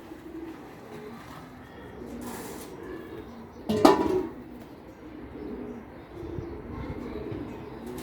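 Bulgarian bango pigeons cooing in a loft, soft low coos running steadily through the clip with a louder burst partway through against a murmur of background noise.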